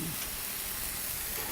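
Onions and garlic sizzling in a pan, a dense, steady hiss of frying that stays even and close for the whole brief moment, with no other sounds over it.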